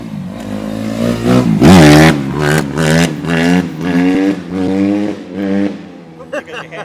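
A 1966 Honda C100 Super Cub motorcycle engine cranks and catches, with repeated revving bursts that rise and fall in a steady rhythm, loud and close, then dropping toward a lighter idle at the end.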